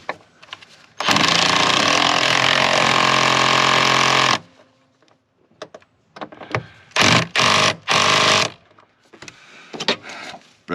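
A Ram diesel truck engine cranks loudly for about three seconds and then cuts off. Several shorter, choppy bursts follow with quieter clunks between them, all close by and with no voices.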